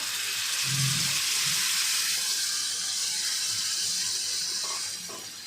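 Marinated prawns sautéing in a pan, a steady broad hiss of frying that runs throughout with a few soft low knocks and faint clinks, easing off slightly near the end, with no one talking.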